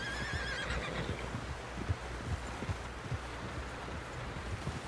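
A horse in Red Dead Redemption 2 gives a bright, shrill whinny at the start, then soft hoof clops and faint wind continue alone at low volume.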